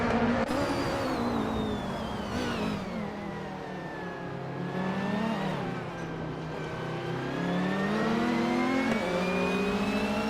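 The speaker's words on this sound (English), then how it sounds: "Reinecke is racing a 1995 seat Ibiza, and is currently in the 16th place" A 1995 SEAT Ibiza race car engine during a race, holding a steady loud, buzzing drone that rises and falls in pitch as it revs through gears, close and continuous with no talk.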